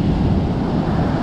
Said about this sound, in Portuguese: Olha só essa onda.